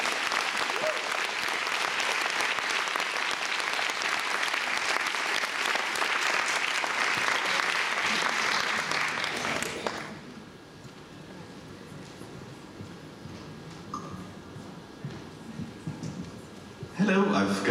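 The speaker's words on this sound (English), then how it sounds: "Big applause for Terry." An audience at an a-ha fan convention in Oslo claps loudly and steadily for about ten seconds before the applause stops abruptly, leaving quiet room tone with a faint sound near the end.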